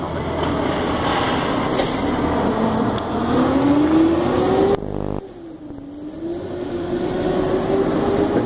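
A loud, steady truck engine drones nearby with a rising whine, broken by a short drop in noise before the rumble resumes and the pitch climbs again.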